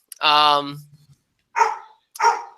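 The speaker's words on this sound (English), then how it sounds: "my dog apparently does not want me to talk to you all because she's barking profusely at everything and everyone that moves" A pet dog barks indoors, one long sustained bark followed by two shorter barks after a pause, loud and close.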